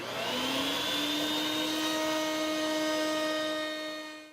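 A router table fitted with a 1/4 inch round-over bit spins up into a high, steady whine that rises in pitch and then holds, loud and close, with a brief fade at the end and no voices.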